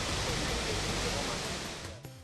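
Agbokim Waterfall in Cross River State, Nigeria, gives a steady, dense roar of falling water, constant and enveloping before it cuts away near the end.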